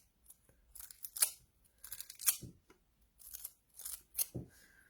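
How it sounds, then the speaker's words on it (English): Aluminium foil being handled and wrapped around a plant pot: close, crisp crinkling and scrunching in several short bursts with quiet gaps between them. "we're just going to put a bit of foil on."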